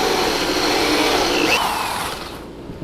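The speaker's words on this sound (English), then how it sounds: "So let's see if this hole saw is okay." A hole saw bores into the wood of a golf cart seat with a loud, steady, high whirring drone that holds for about two seconds, then winds down.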